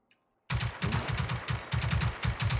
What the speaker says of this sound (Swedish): Ah, du skjuter. Jag skjuter.